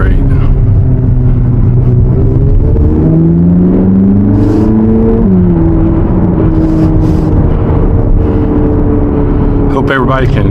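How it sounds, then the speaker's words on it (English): From inside, a 2025 Corvette Z06's engine rumbles and then surges through a rising rev, falls back and settles into a steady loud drone, with occasional voices over it. "that engine sounds great"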